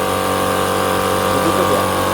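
Steady, loud mechanical hum and drone from a QUPB TC1909 high-pressure air compressor rated to 7500 PSI, running evenly and close up from start to end with no pause or talking.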